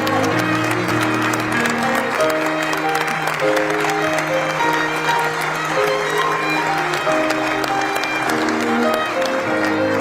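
A standing audience gives warm, sustained applause welcoming Brazil's president Lula da Silva and his wife at a formal state event, the clapping dense and continuous over a sustained musical fanfare.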